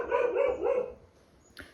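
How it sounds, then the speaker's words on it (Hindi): A dog barks in a quick run of yaps over roughly the first second, close and fairly loud, then a short quiet stretch before a sharp noise at the end. "कुत्ते की आवाज़ ज़्यादा आ रही है।"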